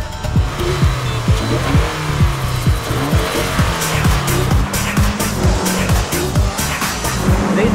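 Scion FR-S cars lap a race track, engines revving hard through rapid repeated gear changes and downshifts, with tire squeal at times, loud and close, no speech.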